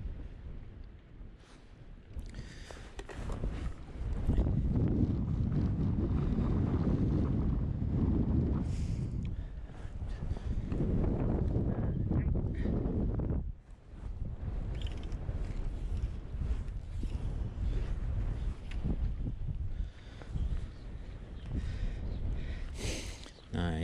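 Strong wind gusts buffet the microphone on a lake while fishing for sea trout and brown trout, a heavy, roaring wash that rises and falls, with a person talking over it at times.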